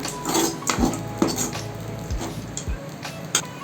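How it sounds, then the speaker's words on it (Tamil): A spoon scrapes and clinks against a pan while idli upma is stirred continuously to keep it from sticking, with repeated close metallic knocks and scrapes, no talking. "கைவிடாமல் இது போல் கலருக்கிட்டே இருங்க இல்லைனா அடி பிடிக்கும்"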